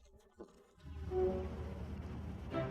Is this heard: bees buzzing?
yes